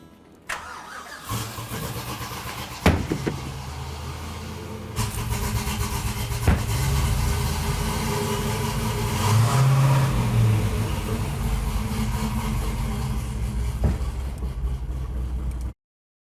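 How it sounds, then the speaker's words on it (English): A Pontiac Trans Am engine cranks and catches, then settles into a loud, rumbling idle with occasional revs, close to the microphone for about fifteen seconds. "Sam, the car looks great, and it sounds great too."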